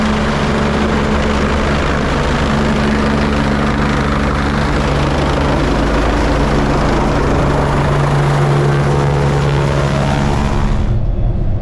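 A helicopter flying north drones loudly and continuously from the engine and rotors, a dense steady roar heard from close range that cuts off abruptly near the end.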